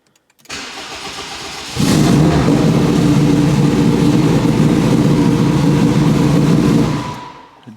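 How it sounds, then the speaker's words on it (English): A project car engine cranks briefly, then catches and settles into a loud, steady idle, rumbling close by for several seconds before cutting off; no talking. "So I can turn on the ignition just fine."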